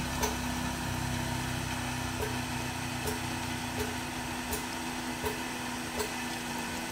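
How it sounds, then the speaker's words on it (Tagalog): An electric water pump, about 1.5 hp, runs while drawing in air, a steady motor whir with a low rumble and regular faint ticking, close and unaccompanied by speech. "Hindi, nagbabacuum yun ng hangin guys."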